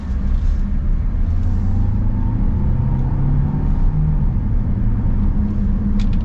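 A 2026 Kia Carnival turbo hybrid minivan drives along, a low engine rumble and road noise inside the cabin with a faint rising whir as it accelerates, steady and unbroken, no talking.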